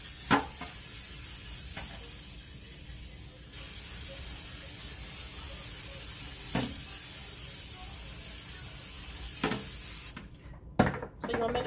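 Cooking spray is sprayed into a silver pan in a home kitchen, several short hissing bursts over a quiet background, ending with a brief clatter.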